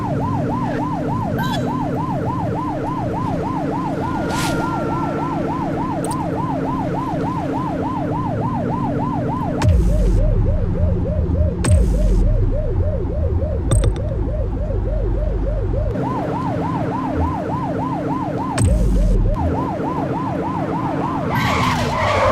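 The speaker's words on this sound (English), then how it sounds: "Remember to turn your siren on." A police car siren in The Precinct video game wails loud and close in a continuous rising and falling cycle over engine rumble, briefly shifting to a faster yelp before the wail returns.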